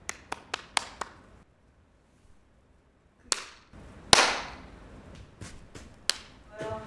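A small group claps for Hayoung in a classroom-style teacher interview setting, giving a few sharp scattered claps, a pause of near silence, then a louder burst of clapping with trailing claps.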